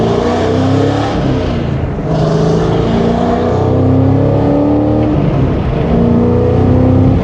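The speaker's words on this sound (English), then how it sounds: "supercharged V8 going full tilt on Streets of Willow" A supercharged V8 Cadillac CT5-V Blackwing, modified to about 835 horsepower, pulls hard around the Streets of Willow track with the windows down, a loud continuous engine roar rising and falling through gear changes, heard from inside the cabin.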